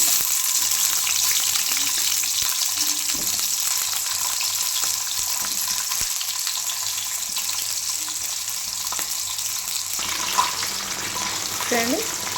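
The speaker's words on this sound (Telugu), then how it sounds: "చూడండి, మునక్కాడలు కొద్దిగా వేగిపోయాయి ఆయిల్లో." Drumstick vegetable pieces fry in hot oil for Telangana-style pappucharu, giving a steady, loud, continuous sizzle with a faint clink or two near the end.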